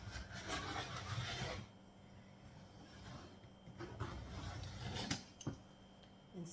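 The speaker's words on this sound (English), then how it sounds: "Press hard when you're using your rotary cutter, otherwise you'll have skips" Rotary cutter slicing fabric on a cutting mat, heard as a few firm rasping, rubbing strokes that come and go, fairly close with no voices.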